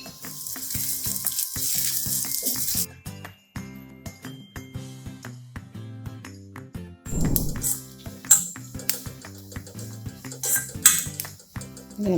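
Grated coconut and onion are stirred and roasted in an iron pan for jackfruit erissery, with close, repeated metallic clinks and scrapes of a spoon against the pan over a light sizzle. No one speaks.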